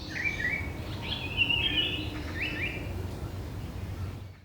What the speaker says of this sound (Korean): 긴꼬리 딱새 같은 여름 철새들은 그 시기에 우리가 알고 있는 둘리와 같은 소리를 냅니다